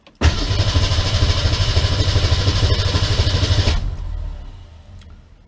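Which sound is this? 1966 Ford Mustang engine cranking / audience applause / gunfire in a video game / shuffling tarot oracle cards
1966 Ford Mustang engine cranking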